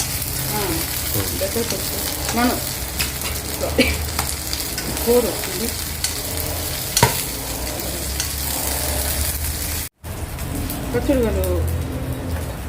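Ingredients frying and being stirred in a pan for gongura chutney, a steady sizzle broken by scraping stirs, with a voice speaking now and then over it.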